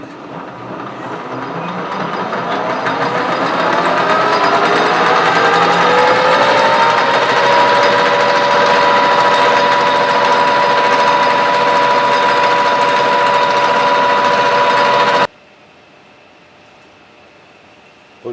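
A metal lathe cuts a 40 TPI thread with a high-speed steel threading tool while building a Hemingway kit spherical turner. It gives a loud, steady machine whine whose pitch settles after a gradual rise, then cuts off abruptly near the end.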